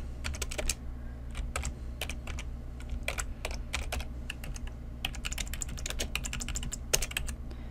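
Steady, quick typing on a computer keyboard while entering Excel VBA code, a dense run of close, crisp key clicks over a low constant hum, with no talk.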